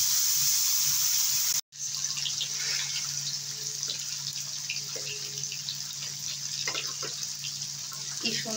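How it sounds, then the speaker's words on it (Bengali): Spinach tipped into a hot pan with jackfruit seeds, giving a broad steady sizzle and hiss after a brief break, with small crackles and spatters continuing throughout. "এবারে শাকটাকে ঢেলে দেবো।"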